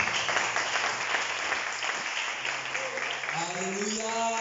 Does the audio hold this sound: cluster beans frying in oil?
no